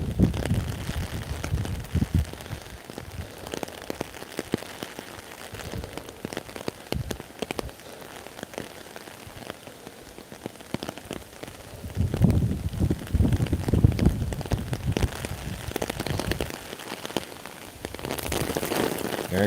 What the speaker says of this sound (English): It's picking up on the gust right now.